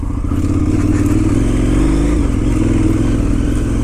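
A KTM 990 Adventure motorcycle rides off-road over rocky autumn fields and forest tracks, its engine a close, loud, steady drone with slight rises in revs throughout.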